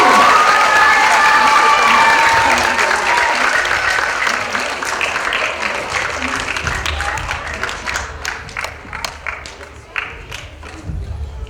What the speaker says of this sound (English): let's give our kindergarten friends another round of applause